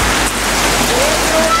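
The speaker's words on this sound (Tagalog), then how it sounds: "Grabing ulan guys, talaga naman." Heavy rain pours in a steady, loud, dense hiss that fills the whole moment, close and unbroken.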